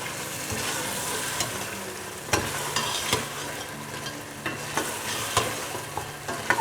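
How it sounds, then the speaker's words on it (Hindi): Whole cardamom pods and a small piece of cinnamon fry in hot oil in a pan while a spoon stirs them, made for a palak chicken dish. The steady close sizzle carries repeated scraping clinks from the stirring. "इसको भूनें इसी तरह।"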